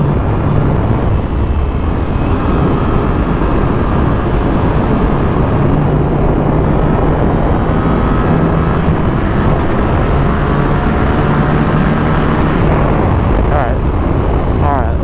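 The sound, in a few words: Yamaha R7 motorcycle engine revving on a dyno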